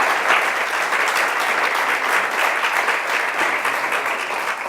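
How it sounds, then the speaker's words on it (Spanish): A church congregation applauds loudly and steadily, a dense wash of many hands clapping together close by that holds evenly throughout without talk. "Démosle un aplauso grande hoy a Dios"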